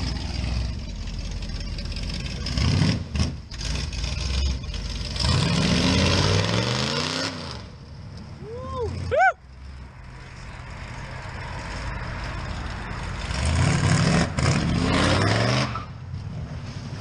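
Farm truck engine idling and then revving in several rising surges, loud and close, with a short sweeping whine in between and no talk.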